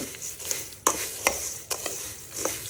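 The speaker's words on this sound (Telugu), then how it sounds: "సో బాగా మిక్స్ చేస్తాను కదా" Poha mixture is tossed in a pan, making several sharp spoon scrapes and clinks in an uneven rhythm over a faint sizzle, close by and without talk.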